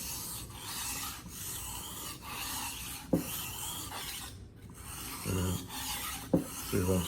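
A traditional filet knife is drawn across a sharpening stone in steady, close, scraping strokes, a continuous gritty rasp with a few light taps and clicks, intimate and quiet with no talk.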